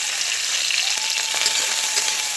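Leafy greens dropped into oil with browned garlic give a loud, steady sizzle that crackles throughout, close by, with no one talking.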